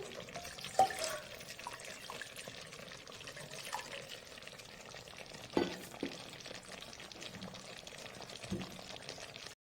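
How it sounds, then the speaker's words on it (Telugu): Water poured into a pot of goat head curry cooking in oil makes a steady splashing hiss for about ten seconds, close by, with a few sharper clinks and splashes along the way. "కొంచెం నీళ్ళు పోసి"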